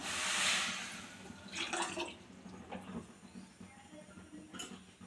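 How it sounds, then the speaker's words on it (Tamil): Water is poured from a bowl into a bowl of sugar to make gulab jamun syrup, a brief splashing pour near the start followed by faint trickling and small clinks in a quiet kitchen. "இதே கிண்ணிலே ஒரு கிண்ணி தண்ணி சேர்த்துக்குவோம்"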